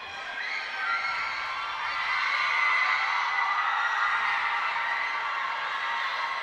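A crowd cheers for St Andrew's College at an under-19 girls' schools cup basketball final, a steady, sustained roar of many distant, high-pitched voices shouting and whooping together, swelling slightly and holding throughout.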